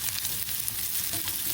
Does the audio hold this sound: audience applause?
no